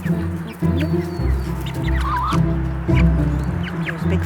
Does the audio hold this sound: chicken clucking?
yes